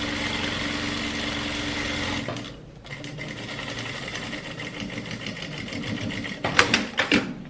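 A straight-stitch sewing machine hems the puff sleeve of a trapeze dress, whirring loudly for about two seconds, pausing briefly, then stitching again more slowly with a few sharp clacks near the end.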